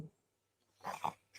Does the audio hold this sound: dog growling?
yes